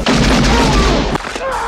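Gunfire from the action film Hard to Kill: loud, dense booming blasts fill the whole stretch, with sharper cracks near the end against a constant roar of movie soundtrack.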